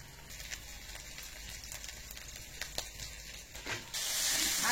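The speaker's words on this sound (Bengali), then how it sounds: "আদা রসুনটা ভাজা হতে থাকে" Ginger garlic paste frying with onions in a pan gives a steady, close sizzling hiss that carries on without a break, broken by a few sharper spitting crackles and swelling to a louder, brighter hiss near the end.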